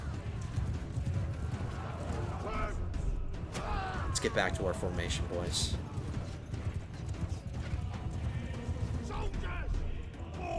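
Steady clip-clop of galloping hooves in the video game Mount & Blade 2: Bannerlord under a voice, with a brief whinny and mechanical clatter in a busy game mix.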